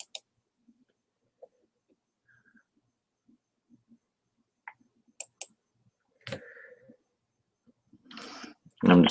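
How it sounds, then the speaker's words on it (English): Sparse, quiet keyboard taps come a few at a time with long pauses, followed by brief bursts of other noise near the end. "I'm just typing hello."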